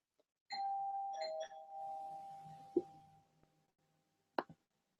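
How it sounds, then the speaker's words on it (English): A doorbell rings in a quiet room: a sustained electronic ding-dong tone that fades out, a short knock-like tap, then a brief second chime near the end. "I guess a bell rang"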